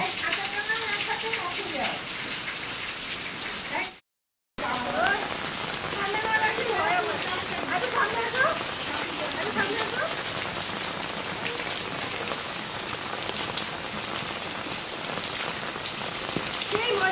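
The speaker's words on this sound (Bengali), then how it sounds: "অনেকদিন পরে আজকে বৃষ্টিতে আমি ভিজলাম" Heavy rain pours steadily onto surfaces nearby, a dense, continuous hiss of drops that breaks off briefly once before resuming at full strength.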